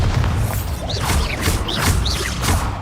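The Bombarda explosion spell in Hogwarts Legacy, heard as repeated booming blasts with whooshing swells over a loud continuous rumble of battle noise.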